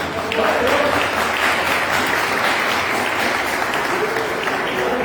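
Church congregation applause, a full, even roll of many hands clapping that begins after a brief moment and carries on steadily for about five seconds.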